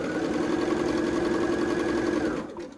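A sewing machine stitches two quilt squares placed right sides together, a steady close mechanical whir that runs evenly for a couple of seconds, then slows and stops.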